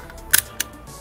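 A Mamiyaflex C2 twin-lens film camera fires its shutter: a sharp double click, then a second softer click a moment later, close and alone in a quiet room.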